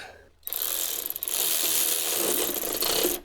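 Intake plenum bellows band clamp being tightened on a 2009-2015 Honda Pilot, a short close run of rapid ratcheting clicks that starts abruptly and stops near the end.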